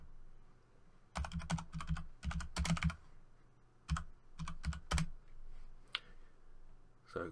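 Keys on a computer keyboard are tapped in quick clustered bursts of close, crisp clicks, pausing briefly between short runs of typing.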